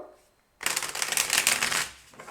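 A deck of cards being shuffled up close, a quick riffle burst lasting under two seconds after a short quiet pause.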